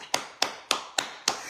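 A single person clapping five slow, separate, sharp claps at an even pace, close and clear, with no talk.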